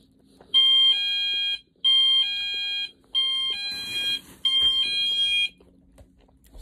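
A house alarm going off indoors in a family home, sounding four loud, shrill electronic beeps of about a second each in a steady repeating pattern, with a brief noisy clatter between the third and fourth.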